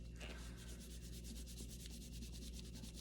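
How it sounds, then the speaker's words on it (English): Paint is being rubbed off a vinyl reborn doll kit, producing a faint, rhythmic scrubbing of quick back-and-forth strokes over a low steady background. "I'm just gonna rub, and I like to get all of the big areas first"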